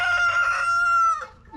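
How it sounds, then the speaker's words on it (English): A single rooster crows close by, a loud drawn-out cock-a-doodle-doo that breaks off at the end, with faint clucking after. "That's our rooster."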